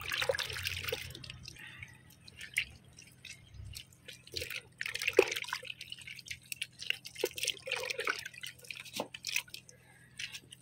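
Water mixed with fertilizer is poured onto the soil of an allamanda vine, giving close, uneven splashing and dripping with trickling patches and brief pauses.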